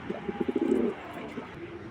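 A large grizzle pigeon gives a brief, close burst of rhythmic throaty cooing lasting under a second, followed by quieter background.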